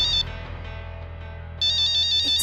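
A phone ringtone for an incoming call plays in a Hindi TV serial scene, a bright repeating electronic tone that starts, pauses, then returns louder in quick pulses, with no talk over it.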